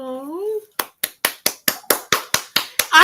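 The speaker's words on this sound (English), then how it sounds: "I see you clapping, everybody." A short spoken tone gives way to a single person's sharp, evenly spaced hand claps, about ten loud close strikes in a steady rhythm, with a voice returning at the very end.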